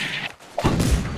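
A gunshot in the Corsairs pirate video game: a brief thud-like shot near the start, then a loud, deep booming report that carries to the end.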